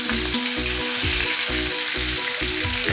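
Prawns sizzle loudly in hot oil in a pan over medium flame, a steady close crackle with a repeating low rhythmic hum beneath it and no talking.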